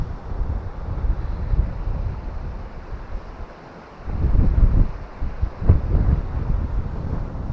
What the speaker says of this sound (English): Wind's died down a bit now.